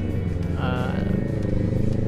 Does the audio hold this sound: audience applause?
no